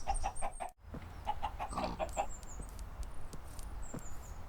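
Minecraft chickens cluck in a quick series of soft, repeated clucks, with a short pause and then more clucking over a low game background.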